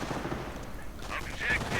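MG42 machine gun fire rattles in a World War II strategy video game amid dense battle noise, a short sustained burst that swells louder toward the end.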